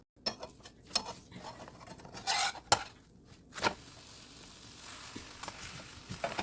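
A shrimp and vegetable crepe roll is flipped in a pan with a few sharp utensil scrapes and clinks, then a faint, steady sizzle as it cooks on the other side.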